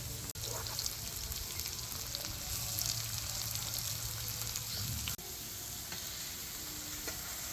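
Chopped onion, green chili and garlic frying in a pan for a village-style chepa shutki bhuna, a soft steady sizzle with occasional stirring scrapes and no voices.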